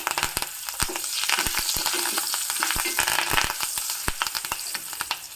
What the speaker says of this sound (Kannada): ಕರಿಬೇವನ್ನು ಸಹ ಹಾಕ್ತಾ ಇದ್ದೀನಿ ನಾನು